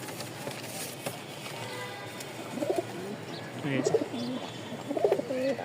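Giribaz pigeons cooing close by in a loft, repeated soft throaty coos that grow more frequent toward the end, over a low background hum.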